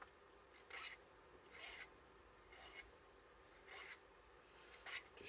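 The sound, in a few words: filing the tip of a steel nail to sharpen it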